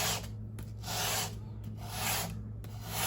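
Bark River Ultra Light Bushcrafter knife blade stroked across a 220 grit sharpening stone, giving three long rasping rubs in a steady back-and-forth rhythm, close and fairly quiet over a low background hum.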